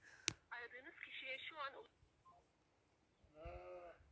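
A sheep inside a building bleats in a village setting, one wavering bleat near the start and another near the end, fairly distant, with a sharp knock early and voices talking between the calls.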